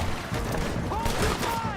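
Gunfire from a Western shootout in the video game Red Dead Redemption 2, a short burst of shots dense under shouted voices and game noise.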